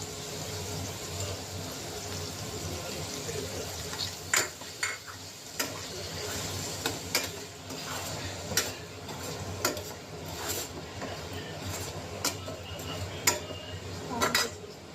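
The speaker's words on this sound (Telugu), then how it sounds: "ఇప్పుడు నేను దీంట్లోకి టమాటా యాడ్ చేస్తున్నాను" Tomatoes are added to a pan of prawns frying in ghee for gongura prawn curry, with a steady close sizzle and sharp metal utensil clinks scraping and tapping against the pan.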